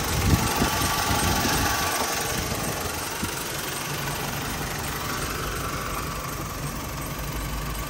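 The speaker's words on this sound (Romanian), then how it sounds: "motorul funcționează bine" A 2007 BMW 1 Series engine idling steadily and fairly close, a continuous rumbling drone with a faint knocking texture, no voices.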